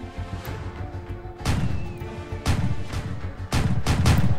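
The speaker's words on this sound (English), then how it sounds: "if those bombs keep on dropping, it's not gonna be easy" Bombs and gunfire sound in the Roblox Army Simulator war game, with several heavy booming impacts roughly a second apart punching through a continuous rumble of battle.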